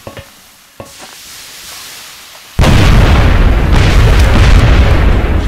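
A sniper rifle shot strikes a giant robot in XCOM: Enemy Unknown: quiet clicks give way to a sudden loud blast that settles into a sustained roaring, crackling rumble lasting several seconds.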